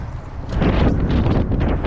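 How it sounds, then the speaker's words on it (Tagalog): Strong wind buffets the microphone outdoors near water during a fishing trip, a rough, rumbling gusting roar that swells after a moment and stays loud to the end. "Sobrang lakas ng hangin mga lods."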